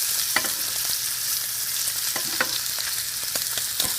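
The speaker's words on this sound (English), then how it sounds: "So while the steak is cooking, I'm going to just spoon some of the butter and extra virgin olive oil mixture over the steak." Ribeye steak sizzles steadily in a pan of butter and extra virgin olive oil, a dense close frying hiss with occasional scattered pops and light clinks of a spoon basting, no voices.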